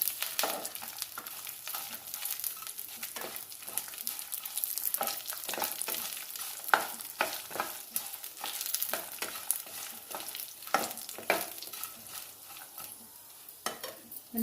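Urad dal, chana dal and mustard seeds frying in a pan for radish chutney, a steady sizzle broken by frequent sharp crackles and pops and the scrape of stirring, close and moderately loud, with no talk.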